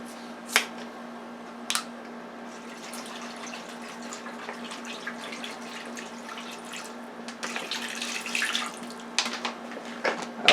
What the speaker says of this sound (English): now I'm going to add my 3rd bottle of bottled water